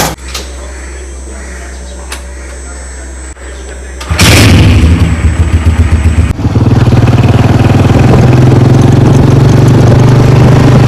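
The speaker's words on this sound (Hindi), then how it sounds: "इधर खड़ी है मोटरसाइकिल, इसको निकाल लेता हूँ बाहर" A motorcycle engine starts up after a quiet hum, then idles loudly and steadily with a low, throbbing rumble close by.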